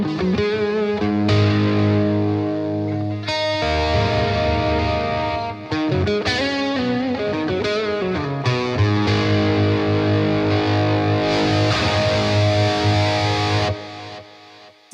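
An electric guitar played through a high-gain Blackstar St James amp plugin with a noise gate, loud and distorted, with sustained chords and shifting riffs running continuously without pause.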